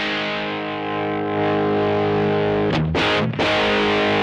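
A TC Electronic Grand Magnus distortion pedal drives an electric guitar into a loud, saturated sustained chord that rings steadily, then breaks into a few quick choppy strums near the end, with no talking.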